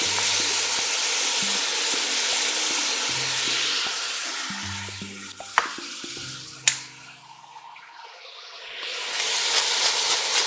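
Mirepoix for a Bolognese sauce sizzles in a pan with a broad, steady hiss. Short stirring knocks break in, then the frying quiets before swelling again near the end.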